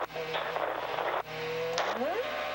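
Stewart-Haas number 14 NASCAR stock car on a wet demonstration run at Watkins Glen, engine droning and revving as it enters pit lane, pitch dropping then climbing, close and steady with a brief gap.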